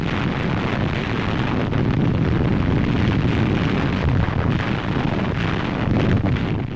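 Katyusha rocket launchers fire in a 1946 wartime documentary, a dense, loud, continuous roar and rumble of launches and explosions, like a distant barrage, with no speech heard.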